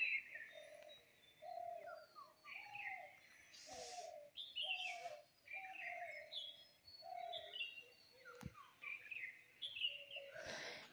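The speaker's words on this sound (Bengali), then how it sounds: "পাখিগুলো ডাকছে, দেখেছো?" Birds call at dawn under a clear, cool sky, with a dove's repeated soft coos beneath higher chirps and whistles from several birds, moderately distant and steady, with a few faint knocks and no talking.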